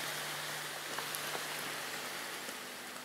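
Steady rain falls throughout, a dense even hiss with faint scattered drops and a low hum underneath.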